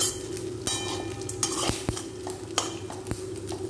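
Taro root (colocasia) pieces roasting in a pan, stirred with a utensil, giving soft steady sizzling frying with repeated scraping and clinking strokes against the pan, close and continuous with no talk.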